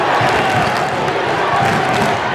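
A basketball crowd at a conference final roars steadily, loud and dense, a continuous wash of cheering filling the gym.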